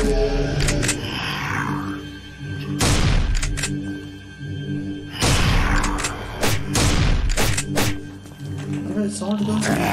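Shotgun gunfire in a video game, several heavy booming blasts at irregular intervals with broad crackling bursts, under continuous game sounds and someone talking over the action.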